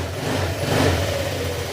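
A repaired motorcycle engine revs steadily, with a close, continuous low drone and smooth throttle rising slightly in the middle, no voices over it.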